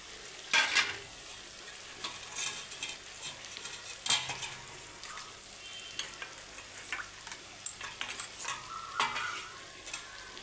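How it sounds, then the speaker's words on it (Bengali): Spice paste for a deshi chicken curry frying in a pan, with soft crackling sizzle under repeated scraping stirs of a spoon against the metal, close and fairly quiet, no voices. "আমি এটাকে ভেজে নেব।"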